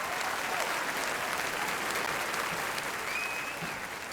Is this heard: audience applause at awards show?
yes